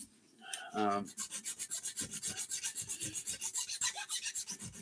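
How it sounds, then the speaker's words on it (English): A file rasps back and forth against hardened epoxy in quick, regular strokes, close up and steady after a short opening scrape. "Filing instead of sanding is so much better as well."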